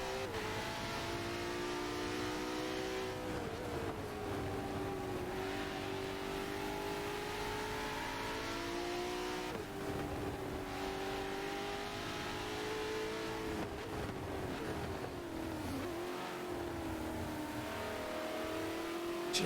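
A McLaren hypercar's engine in a racing game at a wet Silverstone, a steady, loud, tonal engine drone with pitch rising and falling through gear changes and corners, alone throughout.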